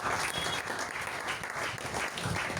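A congregation in church breaks into steady, dense applause, many hands clapping together in a continuous wash that holds at an even level throughout.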